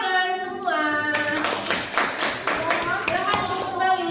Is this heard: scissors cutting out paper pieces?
no